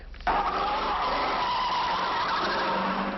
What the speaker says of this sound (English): those 3 cars are hitched together, speeding around the track